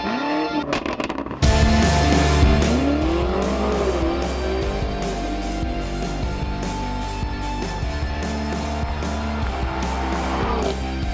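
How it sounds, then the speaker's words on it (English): A 2021 BMW M5 Competition launches hard under launch control on a closed circuit, its engine roaring loud and close as revs climb through rising gear pulls with a touch of tire squeal, steady and sustained for several seconds. "I'm gonna go try this car's launch control"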